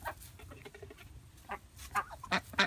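A large duck on a backyard farm raising ducks and chickens gives several loud, nasal quacks near the mic, coming in quick bursts toward the end over low background noise.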